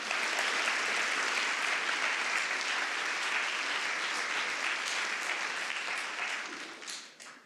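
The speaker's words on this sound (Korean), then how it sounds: "목사님을 큰 박수로 환영하겠습니다" A school graduation and commissioning service welcomes a pastor with sustained, loud applause from the congregation, a dense wash of clapping that holds steady for several seconds before thinning and fading out at the end.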